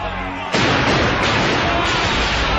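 Gunfire in an Indonesian fantasy drama battle scene: a loud, dense burst of shots and blasts begins suddenly and continues without a break, close and sustained. No speech is heard over it.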